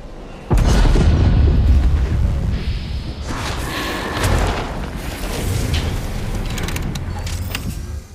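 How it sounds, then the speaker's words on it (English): A grenade blast in a multiplayer shooter video game bursts in loudly after a brief quiet, a deep booming explosion that rumbles on with debris and game noise trailing over several seconds. "Look out, grenade!"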